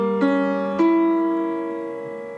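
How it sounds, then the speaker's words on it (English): A diminished seventh chord rings out from a keyboard app, its clean electronic piano tones entering in two quick staggered attacks before sustaining and slowly fading, heard alone and close. "diminished seventh chord, and it sounds like this"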